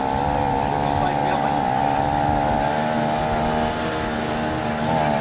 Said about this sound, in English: you're allowed to open the throttle up a bit